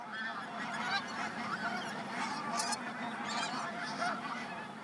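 Pink-footed geese wintering on coastal marshes honk continuously, a busy overlapping chorus of many birds at middle distance over a steady outdoor background, with no voices.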